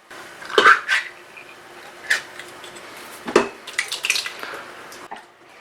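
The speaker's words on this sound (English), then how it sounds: "I'm adding a full can of water just to rinse it out and to add some extra liquid" Water is poured from an emptied chopped-tomato can into an Instant Pot of vegan root vegetable stew, making close, uneven splashes and sloshing with a few sharp metallic clinks of can against pot.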